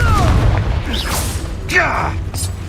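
A Confringo spell blasts and booms in Hogwarts Legacy amid hectic combat, with a voice shouting over the quick bursts and crackling effects.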